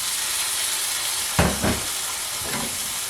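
Raw chicken drops into a hot pan of browning onions and sets off a steady sizzle, with a burst of louder frying and crackle midway before it settles back to a constant hiss.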